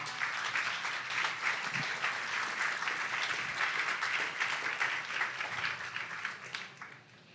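A church congregation applauding during a Good Friday service, a steady dense wash of many hands clapping at close range that carries on for several seconds before tapering off at the end.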